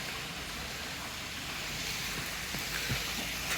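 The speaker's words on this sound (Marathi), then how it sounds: "आणि इथे एक धबधबा आहे." A monsoon waterfall and stream at a hill temple in Urul Ghat, Patan, give a steady, faint, unbroken rush of falling water heard from some distance.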